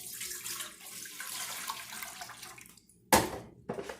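Tap water gushes into a pot for ramen noodles, a steady hissing fill that cuts off sharply, followed by a loud splash and a brief second burst of running water.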